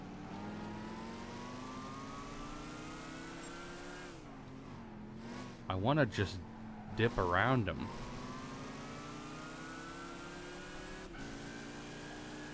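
NASCAR race cars in Gran Turismo 5, a steady droning engine note rising and falling with a nearby car roaring past mid-way, while someone talks over it.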